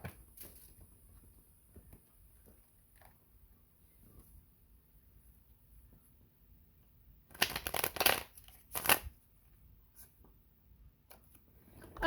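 Tarot cards shuffled for a reading in a quiet room, a dense crisp riffling burst in the middle followed by a shorter second flurry, surrounded by faint handling rustles.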